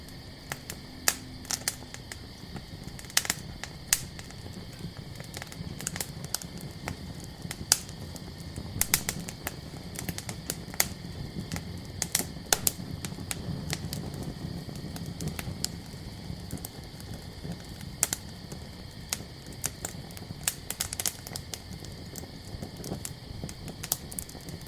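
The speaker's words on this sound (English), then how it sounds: "and your fire crackling away" An outdoor campfire crackles at night with scattered sharp pops and snaps over a quiet, steady background hiss and drone.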